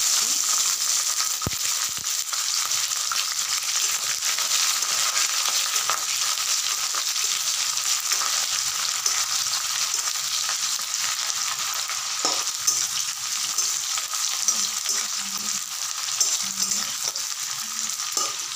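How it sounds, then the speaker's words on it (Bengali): Chopped onions fry in hot oil in a pan over nigella seeds and dried chillies, a steady, even sizzle hissing throughout with an occasional faint clink of a utensil. "এরপর কেটে রাখা পেঁয়াজগুলো দিয়ে দিচ্ছি।"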